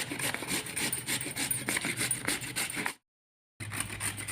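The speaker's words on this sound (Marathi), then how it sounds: "इथे सगळे गाजर किसून झालेले आहेत माझे आणि आता मुळा किसायला घेतलेला आहे" Carrots rasp against a hand grater in quick, rhythmic back-and-forth strokes, close and scratchy, broken by a brief total silence near the end before a low hum returns.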